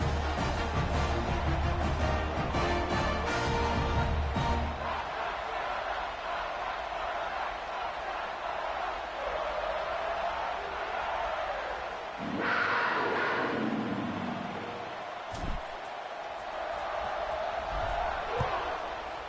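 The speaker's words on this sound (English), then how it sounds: "You think this crowd's going to get loud when their defense comes on the field?" A football stadium crowd roaring at kickoff, a loud, broad, continuous rumble of many voices that dips and then swells again, with a few thuds and shouts cutting through.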